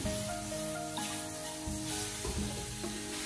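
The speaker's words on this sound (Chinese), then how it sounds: "再继续的开大火给它快速翻炒几下，把所有的食材快速翻炒均匀" Shredded lean pork with green and red pepper strips is stir-fried over high heat in a wok, giving a loud, steady, close sizzle with brief tossing bursts and no talking.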